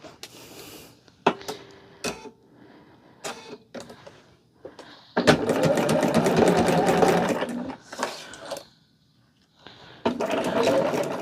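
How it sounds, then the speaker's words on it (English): Sewing machine stitching charm pack quilt strips together, bursts of fast mechanical whirring that stop and start, with one long sustained run in the middle. "I'm going to go ahead and sew this one together so we will have a 5th strip"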